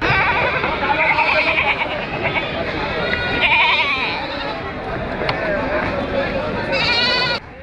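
Goats bleat repeatedly at the crowded Hoybotpur goat market in Natore, Bangladesh, over a continuous hubbub of many voices talking.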